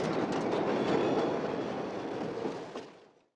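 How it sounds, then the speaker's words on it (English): A train passes by with a loud rushing rumble and faint rhythmic clatter, holding steady before fading away to silence near the end. "How often does the train go by?"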